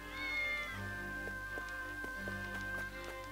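Cat meowing in the Triangle Strategy video game, a clear drawn-out meow at the start followed by a lower, softer call, over steady game music with light plucked notes.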